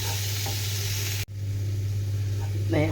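Chopped tomatoes fry in hot oil for an egg curry, giving a steady, close sizzle. A sharp clatter of stirring breaks in near the middle, with a brief dip in the sound.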